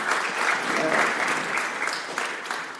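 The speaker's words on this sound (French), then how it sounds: "on peut les applaudir tous les deux pour leurs interventions" Audience applauding two speakers after their talks at an economics debate, a dense, steady wash of clapping from a crowd that holds level for the whole stretch.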